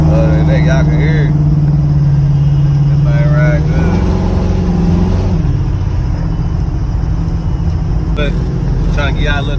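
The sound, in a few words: 1987 Chevrolet Monte Carlo engine running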